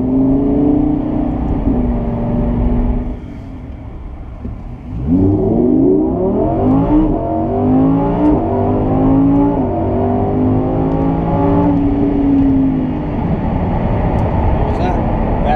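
A Lamborghini accelerates hard from inside the cabin, its engine note rising in a loud sweeping climb through several gear changes, then settling into a steady strong drone.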